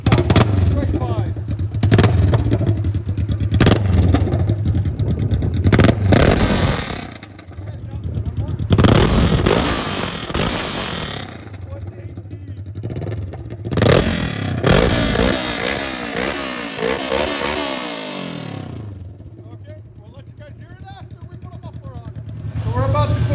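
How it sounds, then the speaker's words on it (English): A straight-piped 2015 Kawasaki Vulcan S cruiser motorcycle idles and revs loudly close by, its rough unmuffled rumble rising and falling in several blips with clattering and rattling mixed in, and the engine settling toward the end. "2015 Kawasaki Vulcan S."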